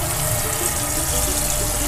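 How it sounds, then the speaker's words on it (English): Water pours steadily into the water pan of a smoker used for smoking chicken sausage, a loud, continuous splashing rush with no speech. "now I'm going to start the smoke and add water to the water pan"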